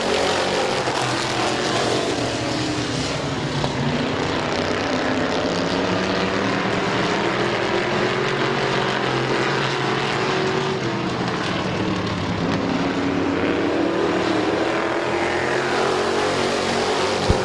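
Race cars roar past at Midvale Speedway, a dirt track race in July 2018, their engines loud and continuous with rising and falling pitch as the pack circles, no talking.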